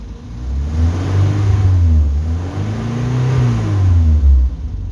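A car engine is revved repeatedly while a smart fast charger tops up its flat battery. The revving is loud, steady and close, rising and falling in pitch, with no talking.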